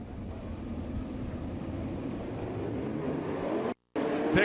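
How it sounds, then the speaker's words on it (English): Sprint cars on a dirt oval at an All Star Circuit of Champions race in Florence, Kentucky roar together under a green flag, a steady, distant wash of engine noise with one brief dropout. "Go ahead and fire those engines and race towards the flag."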